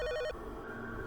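A mobile phone rings in a short electronic burst of repeated tones that stops abruptly after a fraction of a second, leaving only a faint, hushed background.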